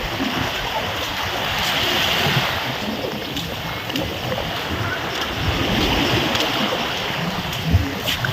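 Steady rush of sea waves and surf under blustery wind buffeting the microphone, continuous with gentle swells.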